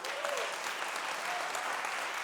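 Audience applause at a school district's State of the Schools address, a dense, steady wash of clapping from a large crowd lasting throughout, fairly soft and even.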